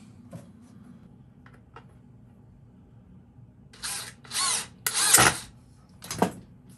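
Power drill driving screws to attach a hinge on a cold frame made from upcycled windows, several short whirring bursts in quick succession after a quiet stretch with a few faint clicks.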